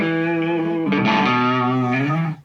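An electric guitar runs through a Wren and Cuff fuzz pedal set to heavy distortion. The tone is saturated and sustained, a held note shifts to another chord partway through, and the sound stays loud and alone until it cuts off.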